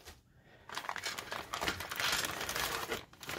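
A resealable plastic bag holding loose parts from a Tamiya 1/35 Churchill Crocodile model kit crinkles close up, a quiet run of crackling rustles that swells and fades as it is handled.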